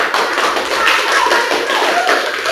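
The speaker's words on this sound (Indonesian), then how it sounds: "Tepuk tangan atas tanggapannya semuanya ya." A roomful of students in an Islamic studies class claps steadily, a dense, even patter of many hands close by, with no talking over it.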